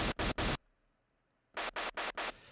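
Raw, unfiltered white noise from a synthesizer circuit built for TR-808-style toms, fired as short, loud, harsh hiss bursts: two, then a pause, then four more in a steady rhythm.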